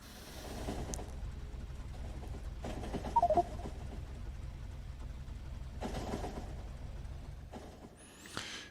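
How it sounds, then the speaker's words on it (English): LTN delivery alert in the factory game Factorio: a brief, quiet tonal chime sounding once over a continuous low hum of machinery ambience. "If anybody knows of a way to disable the sound for these LTN alerts"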